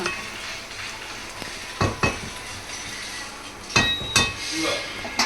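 Vegetables in a pan are tossed by hand without a ladle, giving a low sizzle broken by a few sharp metallic knocks and scrapes of the pan, close up and with no talk.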